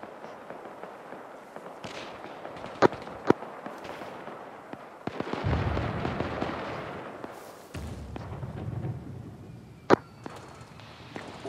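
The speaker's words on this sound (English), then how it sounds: "be advised, we're taking a fire from unknown position" Gunfire in the video game ARMA 3: a few sharp, isolated shots crack out over a low background rumble, with bursts of louder distant firing and explosive noise in between, no voices heard.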